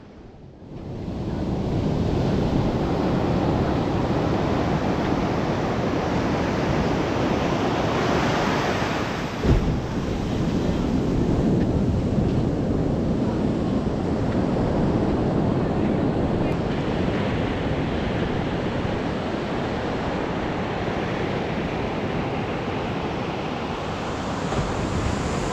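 Steady roar of ocean surf on a sea beach reached via Rajhans Island, with heavy wind buffeting the microphone throughout and no talking.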